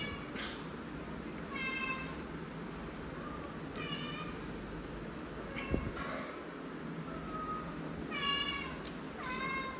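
A cat meows repeatedly near a meal of halwa (black pomfret) fish, giving several clear, drawn-out meows spaced a few seconds apart over a steady low background hum.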